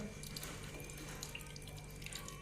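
Water runs steadily from a tap into a sink in a home, a quiet continuous splash with small drips, alone without talk.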